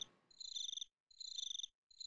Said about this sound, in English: These crickets are driving me effing mad, dude.